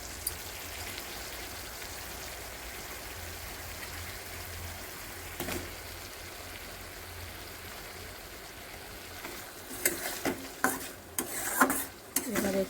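Tomato goes into hot oil for a pabda fish curry, a soft frying sizzle that turns into louder clattering stirs and scrapes near the end, close with no talk.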